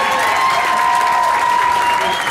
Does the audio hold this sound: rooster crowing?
no